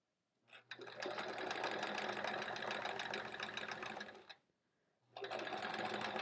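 A domestic sewing machine stitches steadily during free-motion quilting on a quilt block, a close, continuous mechanical whir lasting several seconds, pausing briefly, then starting up again at the same speed.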